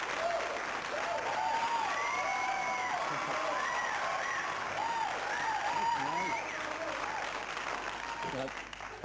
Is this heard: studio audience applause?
yes